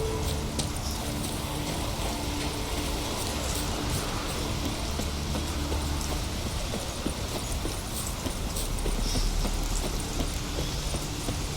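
Horse hooves clip-clop at a steady gallop in The Witcher 3: Wild Hunt, a continuous rhythmic pounding heard alone over a dense outdoor ambience with a rain-like hiss.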